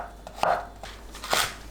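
Zucchini being sliced into half-moons about half a centimetre thick with a knife, two distinct close chops on a cutting board with quiet pauses between them, no talking.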